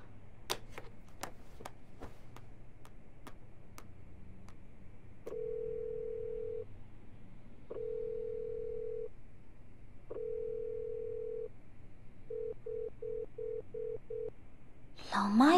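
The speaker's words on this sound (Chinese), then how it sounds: "老妈也不接电话，" A telephone call rings unanswered: a few rapid dialing clicks, then a repeated ringback tone in evenly spaced long beeps, followed by a quick run of short beeps before a burst of noise at the end.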